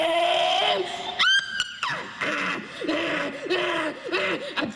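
A concert crowd in Fairview, West Virginia screams in loud, shrill, wavering bursts, close and overlapping, with short breaks between the cries.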